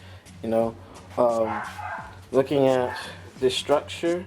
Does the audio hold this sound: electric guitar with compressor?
no